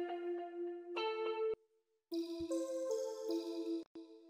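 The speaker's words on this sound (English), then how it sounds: "Take out the lows, add some reverb." A melodic FL Studio beat with the lows cut and reverb added plays in short bright phrases, dropping out briefly midway before returning fuller and louder.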